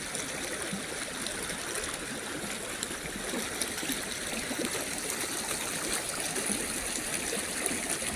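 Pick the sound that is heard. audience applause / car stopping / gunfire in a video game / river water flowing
river water flowing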